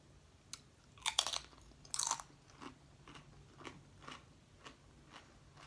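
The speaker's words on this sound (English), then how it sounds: "And their chips are so crunchy." Crunchy El Pollo Loco tortilla chips are bitten with two loud, sharp crunches close to the mouth, followed by a run of softer rhythmic chewing crunches.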